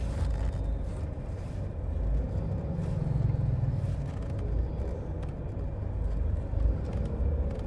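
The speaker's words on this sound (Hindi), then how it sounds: "यहीं से हम गाड़ी घुमाने की कोशिश करेंगे।" A car turning around in a crowded market area, its steady low engine rumble continuous and fairly close throughout, with a dull murmur of surrounding activity.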